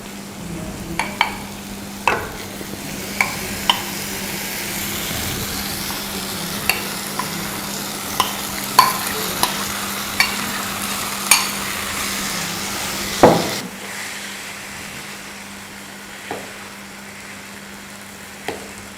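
Mashed roasted brinjal being stirred into a frying pan for kathrikka chutney, with a steady sizzle under sharp, regular scrapes and taps of a spoon against the pan, plus one heavier clunk near the end.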